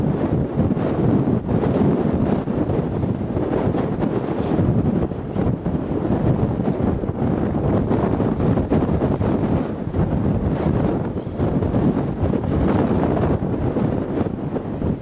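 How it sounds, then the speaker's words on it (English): Cold wind buffets a microphone outdoors, a loud, continuous low rumbling roar with gusty surges throughout and no talk. "Bloody wind."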